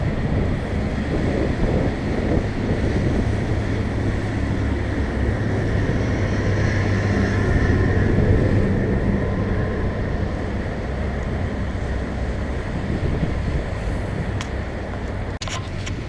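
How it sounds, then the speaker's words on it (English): Boat traffic on the East River in Manhattan near Hell's Gate comes through as a steady wash of water and engine rumble, with strong wind buffeting the microphone throughout. "Boat traffic going down to Manhattan."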